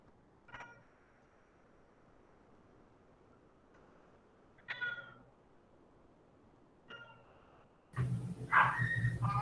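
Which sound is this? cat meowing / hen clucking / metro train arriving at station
cat meowing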